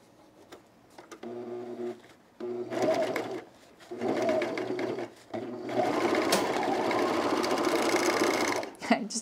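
A sewing machine stitches a thick seam on men's cargo shorts in several bursts of steady, close mechanical whirring, stopping and restarting, with a longer run at the end and faint background sounds between passes.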